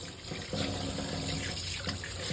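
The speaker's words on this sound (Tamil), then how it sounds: "இப்ப நம்ம டேப்பை திறந்து தண்ணி பிடிச்சிக்கலாம்." An opened kitchen tap runs water into a sink while a fish is being cleaned, giving a steady, close rushing stream with slight splashing variation and no talking.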